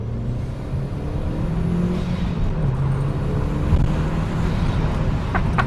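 Audi TT engine with a ram air intake, heard from inside the car with the windows slightly lowered: a steady, fairly loud engine drone and intake whoosh that swells as the car pulls, continuous throughout.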